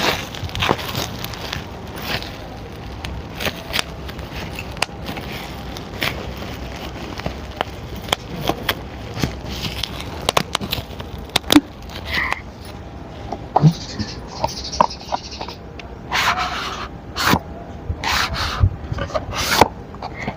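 A package cover being opened for unboxing close to the mic, giving continuous dry rubbing, rasping and crinkling with irregular louder scrapes and crackles throughout, and no talking.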